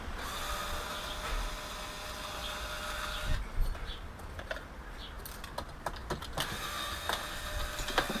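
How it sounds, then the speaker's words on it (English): A small screwdriver with a Torx bit removes heatsink screws from an iMac A1207, faint clicking and scraping taps with a low background hum, no talking. "It's really handy to have this little screwdriver with this Torx bit on it."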